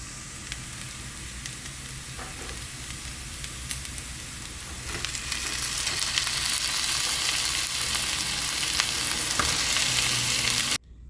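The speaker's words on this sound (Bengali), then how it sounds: "এক পিঠটা ভালোভাবে ভাজা হয়ে গেছে আর অপোজিটটাও দিয়ে দিলাম ওই দিকটা একটু ভেজে নেব" Large double-yolk eggs frying in a pan after being flipped, a continuous crackling sizzle that swells louder midway and stays close and steady until it cuts off abruptly, with no speech.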